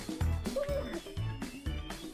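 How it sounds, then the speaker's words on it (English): A German shepherd in a video game gives a few short, sad barks and whimpers spaced across a couple of seconds, moderately close and soft, with no talking. "I pet the shepherd once again and he barks sadly at Sumire."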